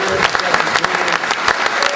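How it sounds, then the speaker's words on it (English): Audience applause fills a civic gathering in Los Angeles, a steady burst of many hands clapping at close range, dense and even for the whole stretch with no voices on top. "Let's give him a round of applause"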